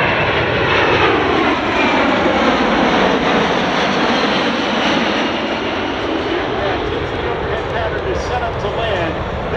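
A US Air Force C-17 transport jet flies past at the Wings Over Houston airshow, a loud, continuous, close engine roar with broadband rumble and a slight shift in tone as it passes.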